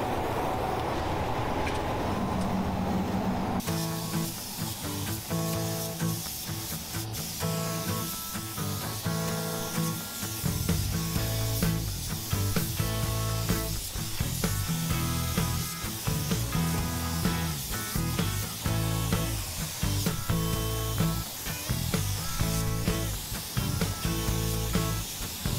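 Spray painting a first coat of paint onto a large object, a continuous loud hiss of the spray gun running almost unbroken for over twenty seconds, with a low mechanical rumble underneath.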